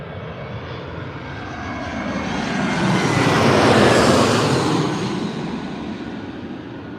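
An Aer Lingus airliner passing at Heathrow, a loud, broad engine roar that swells to a peak midway and then fades slightly, with no talking.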